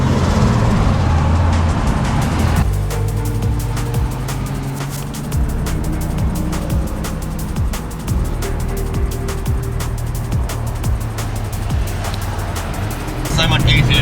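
R33 Nissan Skyline with an RB25DET turbo engine being driven, a steady loud engine drone and road rumble running throughout with clicks and rattles, while people talk over it.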